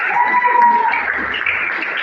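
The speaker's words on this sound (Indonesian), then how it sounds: "selanjutnya kita beri aplaus untuk kelompok 2" A classroom gives a round of applause for group 2, a brief burst of clapping from a small group mixed with background voices.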